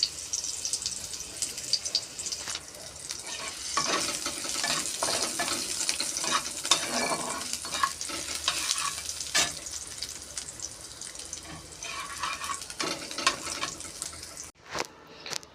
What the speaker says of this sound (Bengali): তেলের ভিতরে মরিচ দিলাম, তেল গরম হয়ে গেছে দেখা। এই দেখো পেঁয়াজ দিছি